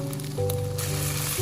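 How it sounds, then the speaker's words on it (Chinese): Egg and tofu pan-fry with a steady close sizzle over a low, humming background tone, the frying hiss growing brighter and denser partway through. "把鸡蛋和豆腐一面煎香，煎香以后再翻过来煎另一面"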